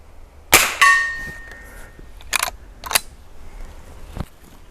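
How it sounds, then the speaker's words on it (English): A Henry Frontier Long Barrel rifle, fired out of the box for the first time, lets off several sharp, ringing cracks at irregular intervals with short quiet gaps between them. "that's the first firing of this gun"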